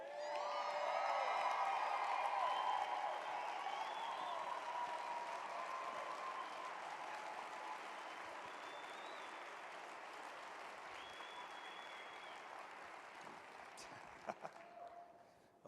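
A large crowd applauds and cheers at a business presentation, with loud whoops and voices over dense clapping at first, the ovation slowly thinning and fading away toward the end.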